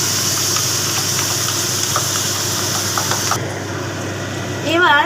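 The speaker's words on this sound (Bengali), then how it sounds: "মাংস ভাজার পর আমি পেঁয়াজ আদা রসুন বাটা অল্প অল্প করে দিয়ে দিচ্ছি মাংসের উপর" Chicken pieces fry with onion, ginger and garlic paste in a pan, giving a steady close sizzle with stirring scrapes, and a voice briefly speaks at the very end.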